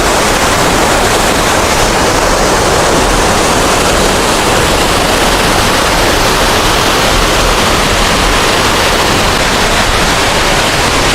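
A waterfall in Badulla pours down with force, a loud, dense, unbroken roar of crashing water close by with no talking.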